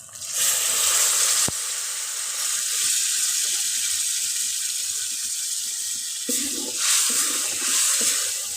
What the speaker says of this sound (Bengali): এখন এতে পরিমাণ মতন জল দিয়ে দেবো